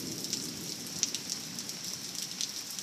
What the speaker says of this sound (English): Gutter's dripping.